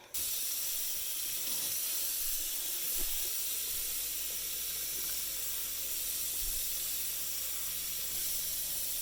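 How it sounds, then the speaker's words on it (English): A spoon is washed under a running tap in a sink, heard as a steady, even hiss of flowing water with no distinct clinks standing out, and no voices. "This is how you wash a spoon."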